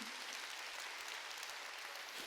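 Church congregation applauding at a Sunday worship service, a steady dense wash of clapping throughout, moderately distant and fairly quiet.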